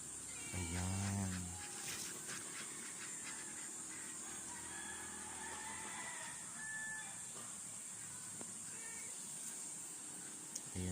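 Chickens and ducks at their nest in a garden give close clucking and fowl calls, including a loud burst near the start, then scattered softer calls and chirps over steady ambient noise.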